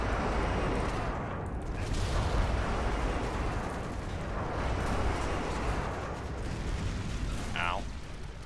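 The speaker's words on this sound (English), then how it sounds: "Airstrike inbound." Airstrike explosions in the shooter Modern Warfare 2, a continuous rumbling barrage of blasts and booms roaring steadily for the whole stretch, with voices talking faintly underneath.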